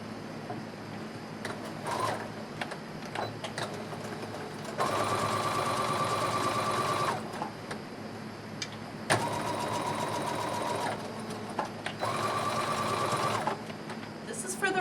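Sewing machine stitching apron fabric, three sustained bursts of rapid whirring several seconds long separated by pauses, close and steady, with someone talking quietly at times.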